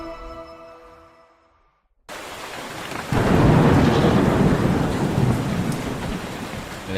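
Loud rumble of thunder with heavy rain in the opening of the Train Sim World 3 game, starting after a brief musical fade to near silence, then a sharp crack and a sustained downpour with rolling thunder close by.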